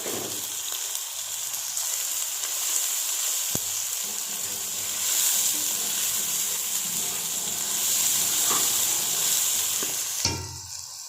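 Tomatoes with ginger garlic paste sizzle steadily in hot oil in a pan, a continuous close frying hiss with occasional stirring scrapes and no talk, cooked as a base for restaurant-style boneless chicken handi gravy.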